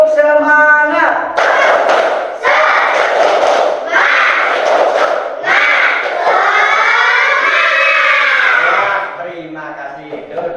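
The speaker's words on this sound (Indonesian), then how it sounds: "mari kita lakukan tepuk semangat" A standing class of schoolchildren performs a rhythmic clapping routine, shouting in unison over bursts of claps and stamping, loud and close, ending with sustained chanted voices as the clapping fades.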